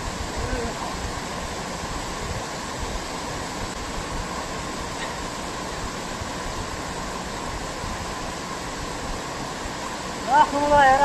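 Natural water flows in a steady broadband rush like a stream or small waterfall, constant and fairly loud, with a brief voice near the end.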